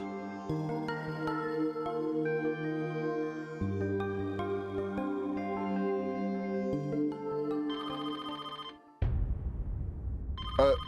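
A phone rings repeatedly in a steady electronic pattern for about nine seconds beneath a musical backing in a French-language television drama, then cuts off abruptly into a noisy transition.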